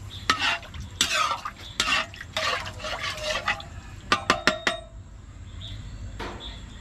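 Crab being stirred in coconut milk in a pot for ginataang alimango, a series of close, irregular scraping and sloshing strokes with a few sharp clinks of utensil against the pot, alone without talk.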